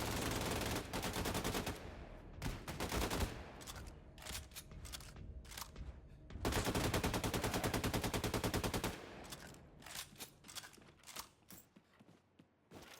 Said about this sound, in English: I'm actually using that fence to shoot through.